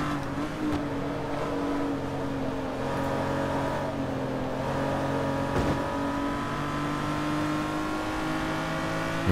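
Lamborghini Murcielago LP640 on a race track in Forza Motorsport 3, a steady, loud engine drone holding near-constant pitch with slight waver as it drives continuously at speed.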